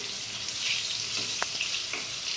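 Marinated chicken pakora pieces fry in hot oil with a steady, close bubbling sizzle, broken by a couple of faint clinks near the middle.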